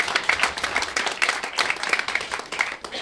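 Studio audience applause at a local access television annual meeting, a brief burst of moderate clapping from a small crowd with a few voices mixed in.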